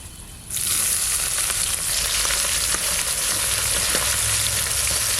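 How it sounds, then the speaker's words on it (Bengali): Chopped onions frying in hot oil with cardamom, cinnamon and cloves for village-style mutton polao, a loud, dense, steady sizzle that flares up suddenly after a brief quieter start and continues with faint crackles. "পেঁয়াজটা বেশি ভাজবো না একটু লাল লাল হয়েছে"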